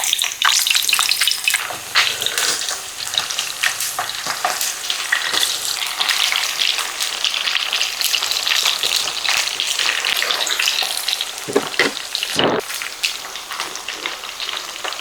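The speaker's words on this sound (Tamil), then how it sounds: "இப்போ கத்திரிக்காவை பொரிச்சிடுவோம்." Pieces of eggplant (brinjal) fry in hot oil, giving a loud, continuous close-up sizzle and crackle that keeps going steadily throughout, with no voices.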